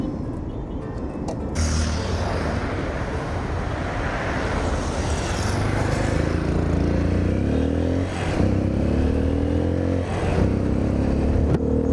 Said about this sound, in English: we're now driving on the main beach road here in Rio de Janeiro